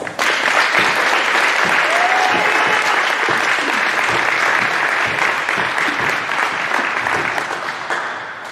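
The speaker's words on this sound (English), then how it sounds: "a round of applause for our Acacia Citizenship Award recipients" Loud, sustained applause from a school assembly audience for citizenship award recipients, dense clapping that holds steady for about eight seconds before easing slightly, with faint voices underneath.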